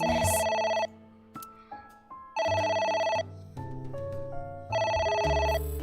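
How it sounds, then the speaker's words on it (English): A telephone rings in the video game AI: The Somnium Files, with loud bursts of electronic ringing roughly every two seconds and quieter musical tones filling the gaps between them. No voices. "We're just supposed to keep ignoring the phone ringing, I think."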